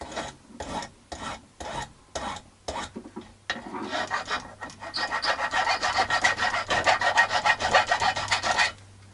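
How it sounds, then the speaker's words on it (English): A metal file works on a soldering iron tip in short, separate rasping strokes at first, then in a fast, steady back-and-forth run of close scraping that ends abruptly. "File this for a minute."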